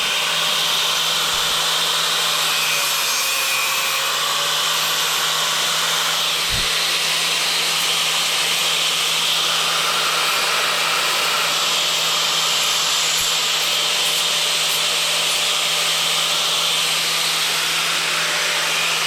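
A power tool blade trims tiles with a continuous loud, high whining grind that holds steady throughout, with no talking.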